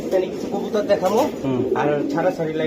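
High flyer pigeons coo in soft, repeated low warbles close by, mixed in with people talking nearby.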